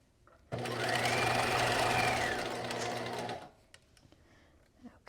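A sewing machine stitches a knit pencil skirt seam in one continuous run of about three seconds, a close, steady motor whir that stops abruptly, followed by small handling clicks.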